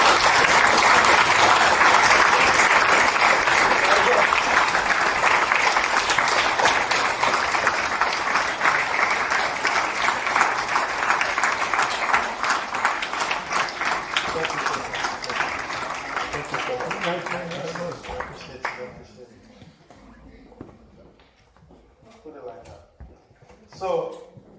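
A large audience at a university lecture gives a long, loud round of applause that holds steady, then thins out and fades into scattered claps near the end.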